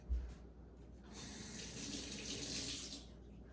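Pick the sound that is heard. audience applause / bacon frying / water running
water running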